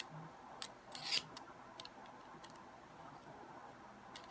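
The metal casing is pried off a dead lighter, giving a few faint, close clicks and a short scrape against a quiet background.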